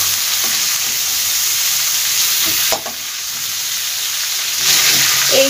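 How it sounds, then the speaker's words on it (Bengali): Prawns frying in hot oil for a Bengali lau chingri dish, giving a steady, loud, continuous sizzle with occasional stirring scrapes, heard alone without talk. "খুব ভাজবার দরকার নেই, মাছগুলো এবার আমি তুলে নেব"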